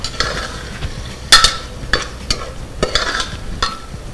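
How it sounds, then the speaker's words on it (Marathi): Tinda (round gourd) and chana dal being stirred in a frying pan, with scraping spoon strokes over a steady oil sizzle, close and moderately loud, several distinct stirs in an uneven rhythm, no talking. "आणि चण्याची डाळ मिक्स करून घेऊया।"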